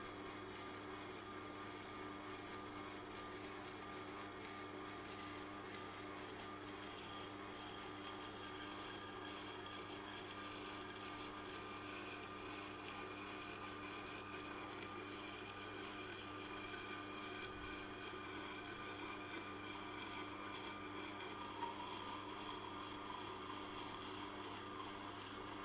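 A serrated knife is ground on a Tormek Japanese sharpening wheel, giving a faint, continuous rasping hiss of steel on stone that holds steady over a low machine hum throughout.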